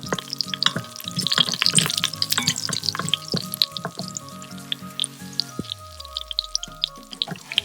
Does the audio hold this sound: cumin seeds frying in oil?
yes